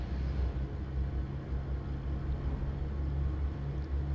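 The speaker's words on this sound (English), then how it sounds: "it's just got this rumble and the way the exhaust is" Low, steady engine rumble of a Marmon 110p truck in American Truck Simulator, idling with a deep throbbing exhaust tone, constant and moderately loud with no voices.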